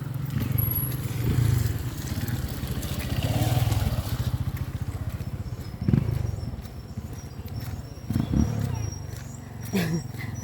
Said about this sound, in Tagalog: Umikot yung motor.